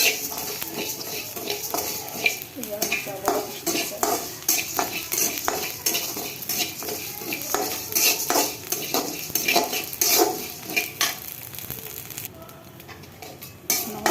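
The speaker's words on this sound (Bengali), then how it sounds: "চাল ভাজা শুরু করলাম।" Rice dry-fried in a pan and stirred with a utensil, giving a steady stream of scraping, clinking strokes and faint rattling grains, fairly close and continuous throughout with no talk.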